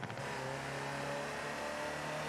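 Land Rover Type 3 utility vehicle driving in Forza Horizon 4, its engine holding a steady, loud mid-pitched drone with a brief rev at the start and no voices over it.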